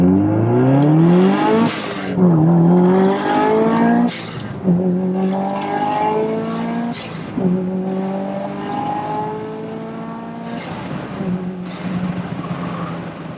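Subaru Impreza STI Spec C WR Limited, a road-legal 360 bhp JDM rally-bred car, accelerating hard from close by; the turbo engine revs climb repeatedly through several gear changes, each shift marked by a sharp break in the loud, rising drone.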